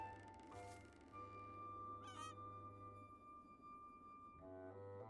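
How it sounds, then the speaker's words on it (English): A small bird's quick trilling chirp in the video game The Whispered World rises briefly over steady electronic tones and a low hum, then fades. "That's what that noise is. It's the little bird."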